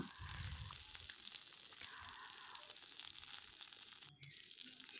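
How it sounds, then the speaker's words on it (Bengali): Pieces of drumstick (moringa) being lightly fried in hot oil in a wok, giving a steady, faint sizzle that runs throughout with a few soft stirring bumps. "এবার এটাকে আমি একটু নেড়েচেড়ে হালকা ফ্রাই করে নেব।"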